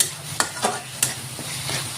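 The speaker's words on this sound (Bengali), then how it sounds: "তার সাথে ভালো করে কষিয়ে নিমু।" Chopped tomato and green peas stir-fried in a pan for an egg omelette dish: a steady, close sizzle with several sharp spatula scrapes and stirs, no talking.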